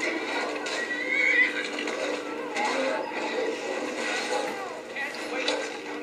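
A horse whinnies in the Skyrim video game during a fight, rising and falling over a busy game soundscape with possible hoof clops, while someone talks over it.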